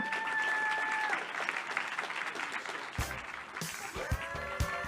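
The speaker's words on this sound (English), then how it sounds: "Round of applause again for Monica Skoke" An audience applauds at a startup week kickoff celebration, steady dense clapping throughout with a few whoops and cheers, an amplified voice briefly over it near the end.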